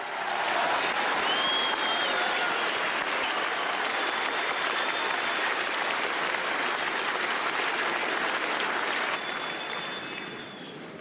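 Dense, loud applause from a congress audience backing Vladimir Putin's presidential candidacy in Russia, sustained for about nine seconds before tapering off slightly toward the end.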